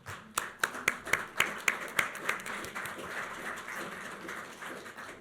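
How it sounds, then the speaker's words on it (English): Audience clapping at a township trustee meeting, a series of distinct sharp claps in a regular rhythm that blurs into softer scattered applause, moderately distant in a room. "thank you so much for applauding our police and fire and EMS"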